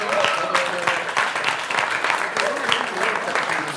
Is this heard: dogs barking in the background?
no